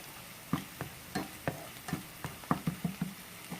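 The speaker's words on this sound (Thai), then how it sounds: "ผัดแบบนี้ไปนะคะ จนให้เขาเหลืองนะคะ" Garlic, whole peppercorns and coriander stems stir-fried in a pan for a duck noodle soup base: a low sizzle under regular, evenly spaced spatula scrapes and taps, about a dozen strokes, close and fairly quiet, no talk.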